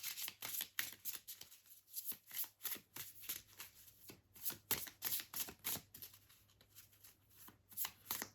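Tarot cards are shuffled and handled in soft, repeated riffling bursts with short pauses between them, close and quiet, with no voice.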